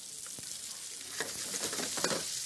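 Chorizo and onions fry in a pan with a dense, close sizzle, punctuated by stirring clatters and crackling bursts as more onions go in, with no talking.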